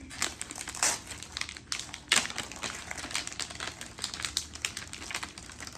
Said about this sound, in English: Let them see your wrapping paper before you open it.